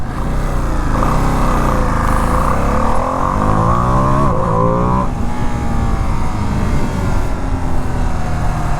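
A 2025 Ducati Panigale V2 sport motorcycle rides through twisty roads, its engine revving up and down through several gear changes with rising and falling pitch, loud and close, mixed with steady wind rush.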